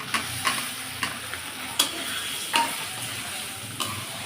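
Boiled green banana pieces are stirred into a well-fried spiced masala in a pan: a soft continuous sizzle with several sharp spatula knocks and scrapes at irregular intervals, close and moderately loud, with no talking.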